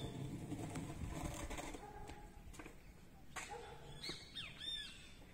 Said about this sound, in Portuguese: quem está cantando é o bentivi